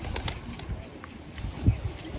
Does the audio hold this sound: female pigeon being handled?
yes